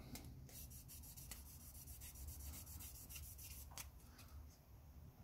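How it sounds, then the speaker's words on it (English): Fine abrasive buffing on a 1/25 scale model car body smooths out sanding scratches, a soft close-up rubbing hiss with light repeated strokes, quiet and with no voices. "Just buff it so it gets those sand scratches out."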